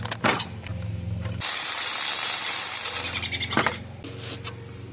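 A ratchet clicks rapidly while loosening a catalytic converter bracket bolt on a Toyota Camry 2.4 engine, with a short burst of steady hiss between bouts of clicking, close up and with no voices.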